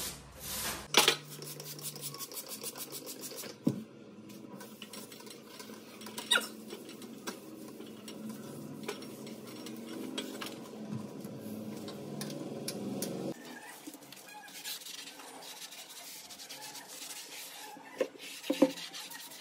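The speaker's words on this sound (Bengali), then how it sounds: "ভেতর দিয়ে একবার ঘষে নেওয়ার পরে যদি বাইরে দিয়েও এরকম করে ঘষে নিতে পারি, তাহলে জানলাটা চকচকে ঝকঝকে হবে" A cloth rubs over a glass window pane, soft scrubbing and squeaky swipes in uneven strokes, faint and close, with occasional small knocks and clicks.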